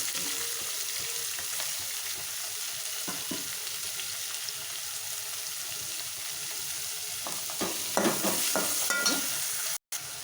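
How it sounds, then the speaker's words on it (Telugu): Thinly sliced onions fry in a generous pour of hot oil, giving a steady, close sizzle with faint stirring clicks scattered throughout and a brief cut near the end. "కొంచెం ఆయిల్ కొంచెం ఎక్కువగా వేసుకోండి ఎందుకంటే ఆయిల్ ఎక్కువ పడుతుంది ఆనియన్స్ మంచిగా మగ్గాలన్నమాట"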